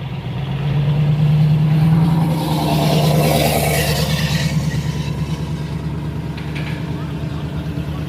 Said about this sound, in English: The cars are rolling out.